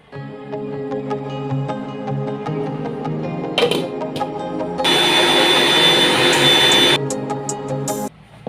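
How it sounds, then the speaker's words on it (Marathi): A kitchen mixer grinder whirs steadily, blending a spice paste with turmeric and asafoetida, its motor pitch rising into a louder, harsher roar for a couple of seconds before cutting off. "हे सर्व मिश्रण मिक्सरला फिरवून घ्यायचं आहे"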